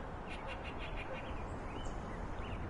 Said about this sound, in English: the ambient sounds, the bird song, etc., is really nice